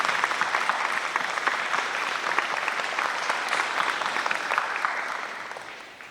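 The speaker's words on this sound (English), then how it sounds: "please give them a round of your applause because we are so grateful" An audience at a teacher of the year award ceremony applauds the sponsors, a full, sustained patter of many hands that fades near the end.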